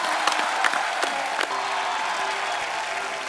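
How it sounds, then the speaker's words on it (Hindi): A studio audience at a comedy talk show bursts into dense, loud applause that carries on steadily throughout, with a faint crowd murmur beneath. "एक बार पूरी सारात टीम के लिए जोरदार तालियां आ जाएं।"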